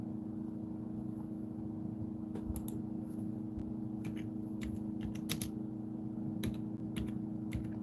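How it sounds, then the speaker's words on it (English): Typing on a computer keyboard, heard as scattered light key clicks in small bursts over a steady low hum from nearby machinery, with no voices. "All I got to do is type in NEC for that one"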